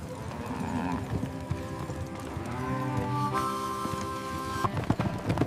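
Horse galloping across open ground in a western setting, hoofbeats running steadily under a swelling orchestral score with no talk.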